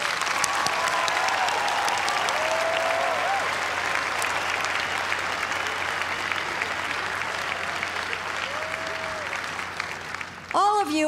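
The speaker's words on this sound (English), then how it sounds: "please join me in a round of applause for the graduates" A large crowd at the Boston University 2019 commencement applauds the graduates, dense, continuous clapping filling the whole stretch before thinning out near the end as a voice begins.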